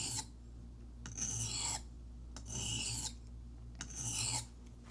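A metal tool edge is sharpened by hand on a stone in three or four slow, rhythmic rasping strokes, each a loud scrape separated by short pauses, over a low steady hum.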